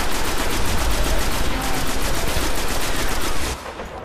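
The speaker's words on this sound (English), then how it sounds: "I can hear Chris shooting something" Loud, continuous automatic gunfire from the shooter game Destiny, a rapid steady stream of close shots lasting several seconds before it cuts off near the end.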